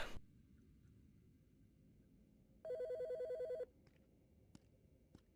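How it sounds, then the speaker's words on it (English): A telephone rings once in the horror game Autopsy Simulator, a bright electronic trill lasting about a second over a quiet ambient background, with faint clicks before and after. "The fucking phone."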